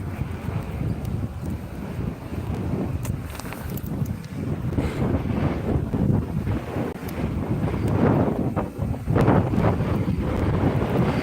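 Strong wind roars across an outdoor ice fishing spot, buffeting the microphone with a continuous loud rush that surges and gusts throughout.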